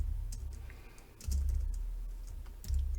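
Clicky computer keyboard typing while entering a Power BI formula, bursts of close keystrokes with brief pauses and thumps from heavier key presses.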